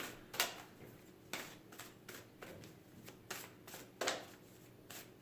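Tarot cards being shuffled and pulled from a deck, heard as soft riffling and several crisp slaps and flicks at irregular intervals, close and fairly quiet.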